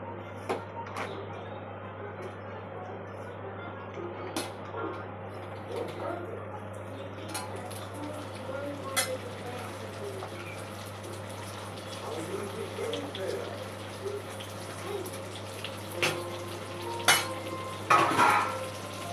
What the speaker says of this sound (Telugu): ఇప్పుడు బాండీలో ఇంకొంచెం నెయ్యి వేసేసుకొని ఇవి పాల తాలికలు ఇందులో యాడ్ చేసుకోవాలి.